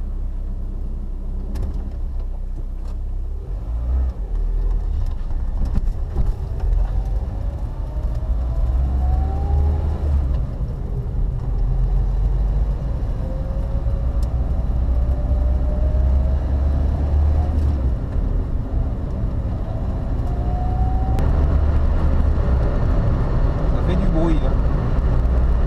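Renault Clio 16S pulling away slowly after a long spell off the road, its steady engine rumble and rolling road noise continuous throughout, with a voice talking over it.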